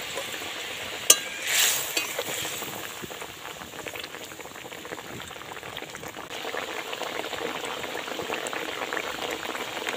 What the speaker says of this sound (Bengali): এর মধ্যে মাছগুলো এবার দিয়ে দেবো।